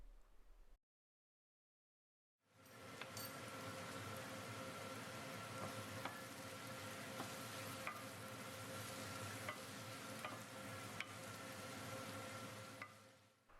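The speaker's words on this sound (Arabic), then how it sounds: "هسه نضيف الفلفل الملون ونقلب" Bell peppers are stirred into garlic and onion frying in a pan. A short silence gives way to a loud, steady sizzle with scattered clicks of the stirring for about eleven seconds.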